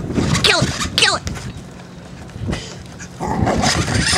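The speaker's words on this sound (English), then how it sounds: "He's a very good dog." A dog at home playing with a tough toy, giving short barks and whimpering yips in bursts, close by, with people talking to it in between.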